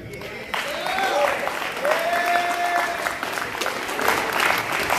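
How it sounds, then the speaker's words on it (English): An audience applauds after a speech about fathers, a steady wash of clapping that runs throughout, with voices speaking and calling out over it. "Come on, y'all, clap that up again."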